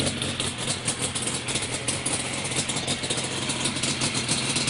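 Freshly rebuilt Yamaha Banshee ATV two-stroke engine with an FMF Cold Series exhaust idling nearby, a steady raspy burble that holds loud and even throughout without speech.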